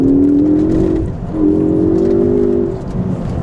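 A 2016 Ford Focus ST engine revs hard and pulls strongly in second gear, easing briefly before climbing again in a rising, throaty drone, loud and close.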